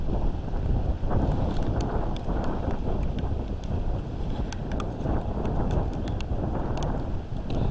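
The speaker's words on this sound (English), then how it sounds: "that wind's really picking up now" Strong wind from Tropical Storm Ophelia roars at a dock by the water, buffeting the microphone in a constant loud rumble with faint ticks and knocks over it.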